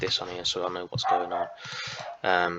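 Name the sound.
dog barking in the background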